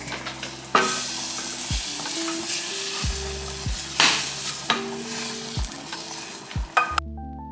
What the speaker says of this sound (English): basically I'm putting some minced garlic in the pot and basically just going ahead and, you know, getting this a little fragrant